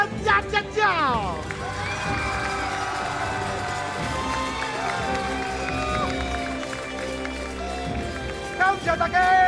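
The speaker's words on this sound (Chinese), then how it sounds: "再次给所有的台上台下所有嘉宾再次的热情掌声加尖叫" A stage-show crowd cheers, screams and claps throughout, loud and busy, with music and amplified voices mixed in.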